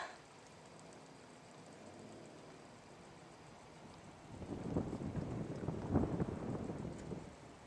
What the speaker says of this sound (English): That's the exhaust from the engine.